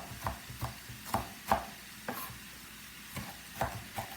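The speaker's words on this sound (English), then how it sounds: "I'm gonna take all this seasoning and I'm just chopping it up just a little bit more." Knife chopping seasoning for Jamaican curry chicken on a board: about eight sharp, separate chops at an uneven pace, close and fairly quiet, with no talk.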